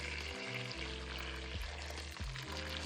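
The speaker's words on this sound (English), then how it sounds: "And also some hot water." Hot water pours into a pot of peas, garlic and meat for Jamaican stew peas, giving a soft, steady splash and sizzle with a few brief breaks in the flow and no talking.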